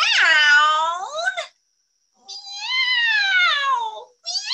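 A storyteller's voice imitates a cat meowing in a bedtime story about winter sleep and hibernation: two long, drawn-out meows separated by a short pause, close and loud, with the start of a third at the end.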